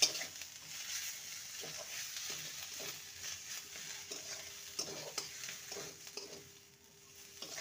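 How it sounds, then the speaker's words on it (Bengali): Cabbage roll filling with chopped coriander stirred in a pan, a steady sizzle under repeated scraping strokes of a spatula, close and moderately loud, no talking. "ভালো করে নেড়ে নেব।"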